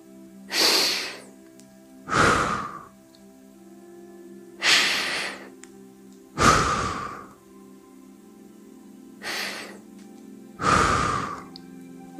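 Six slow, deep breaths during a sophrology relaxation session, each a loud, close airy inhale or exhale separated by quiet pauses, in an even rhythm.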